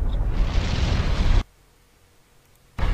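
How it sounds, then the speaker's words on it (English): A loud volcanic explosion sound effect: a dense roaring rumble lasting over a second, then sudden near-silence before the roar bursts back in. "Suddenly, there was another loud explosion."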